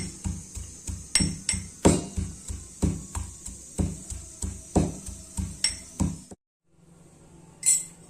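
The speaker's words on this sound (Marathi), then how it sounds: "लसणाच्या पाकळ्या टाकूया नंतर खोबरं किसून भाजून घेतलेले ते पण टाकून घेऊया आणि आलं टाकून घेऊया आणि चांगलं बारीकसर कुटून घेऊया" Garlic cloves, roasted grated coconut and ginger are pounded in a mortar, giving a steady series of loud, evenly spaced thuds with metallic clinks, close up, then a brief pause and one last strike.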